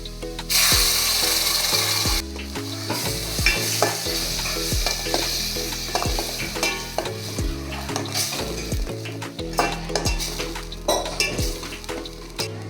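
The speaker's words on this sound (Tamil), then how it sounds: "இப்போ நம்ம ஆல்ரெடி அரைச்சி வச்சிருக்க மசாலாவை இதில் சேர்த்து நல்லா வதக்கிக்கலாம்." Ground masala paste for fish curry fries loudly in a pan, with frequent scraping stirs and metallic clinks against the pan, close and continuous, and no talking.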